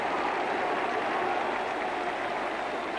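A football crowd at a Hibs versus Dundee match cheers and applauds after a goal, a dense, even roar of clapping and voices from a large stadium, steady throughout and without any commentary.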